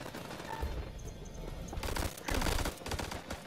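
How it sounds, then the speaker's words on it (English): Gunfire in the horror video game House of Ashes comes as dense, rumbling bursts of shots and crashes, fairly quiet and muffled, with short pauses between volleys. "Oh, I'm getting shot at."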